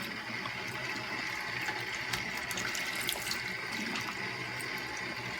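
Tap water running steadily into a sink while a synthetic wig is rinsed, a continuous close splashing rush with small shifting splatters and no talk.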